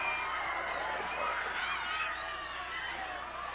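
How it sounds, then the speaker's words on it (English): Arena crowd at a Southwest Championship Wrestling show in 1981, shouting and roaring in anger as a steady dense wall of voices, loud and continuous throughout. "The crowd is up. They're infuriated."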